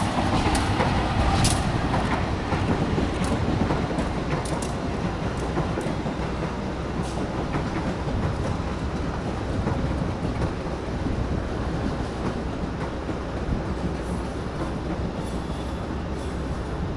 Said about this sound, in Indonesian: Ini di jalur 3 ada kereta api lokal Bandung Raya, persiapan masuk stasiun Kiara Condong.